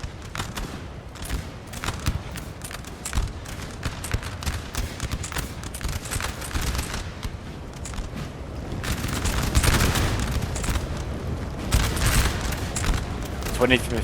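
Napoleon Total War musket volleys crackle in dense, continuous bursts of gunfire with heavier booming swells, as a voice talks over the battle.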